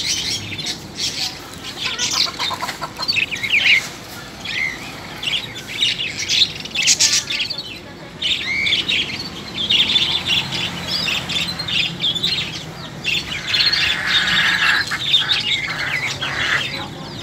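Chickens and other birds in a pet shop cluck, squawk and chirp constantly, a dense overlapping chorus of close, loud calls with no talking.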